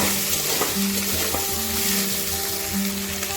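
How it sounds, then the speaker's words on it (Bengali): Chili, coriander and black pepper powders fry in a pan for a vegetarian Bengali aloo dum while being stirred, a close, continuous sizzle with rhythmic scraping strokes of the spatula. "এবার দিয়ে দেব লঙ্কা গুঁড়ো, ধনে গুঁড়ো ও গোলমরিচ গুঁড়ো, দিয়ে ভালো করে নেড়ে নেব"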